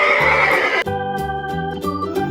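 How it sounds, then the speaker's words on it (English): A horse neighs loudly and close, a rough whinny opening into a strongly pitched, wavering call that carries through the rest of the short sound. "Horses are farm animals"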